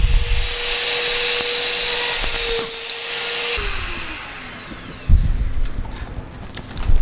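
A loud power drill, used for drilling pilot holes for scroll-saw fretwork, whines at steady speed, then spins down as it is switched off, with faint rattling and handling noise afterward.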